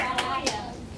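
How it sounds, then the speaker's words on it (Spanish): A church congregation claps during a Spanish-language Sunday retreat service, two quick sharp claps standing out over a faint murmur of voices. "Dale un aplauso a Cristo, que Cristo vive."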